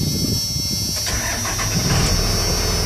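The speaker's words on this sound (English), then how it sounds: "This truck starts up the first time," A 1996 Dodge Ram 3500 with a 5.9L Cummins inline-six diesel cranks briefly and catches, settling into a loud, rough, steady idle close by.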